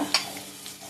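Bay leaf, cinnamon and cloves dropped into hot oil for veg pulao, a brief crackle and spatter with a soft sizzle, close and quiet.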